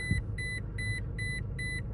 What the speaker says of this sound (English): Now it's going to beep at me for a month, sitting there.